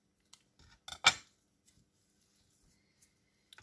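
Scissors snip out small craft elements, a few crisp, close cuts clustered together with a sharper main snip, followed by faint ticks and light handling noises in a quiet room.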